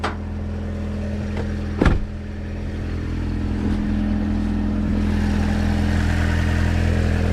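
A car engine idles steadily and fairly close, a low even rumble with one brief knock partway through, no voices.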